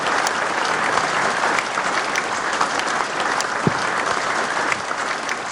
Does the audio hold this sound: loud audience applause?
yes